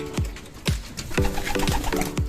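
Repeated pigeon coos, about five low throaty calls in a steady rhythm, close by with faint background noise.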